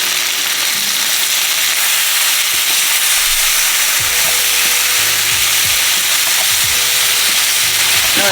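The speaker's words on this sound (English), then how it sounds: "we want to sear this for about 5 to 6 minutes" A steak searing in a hot pan gives a steady, loud sizzle and hiss throughout, with occasional low knocks and scrapes from the pan.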